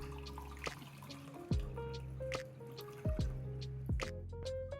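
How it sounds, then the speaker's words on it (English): Homemade bioenzyme cleaner is filtered and poured into a bottle, with liquid trickling and dripping close up, several splashy drops and the rising gurgle of a filling bottle, fairly quiet with no voices. "I am filtering and transferring this into another bottle."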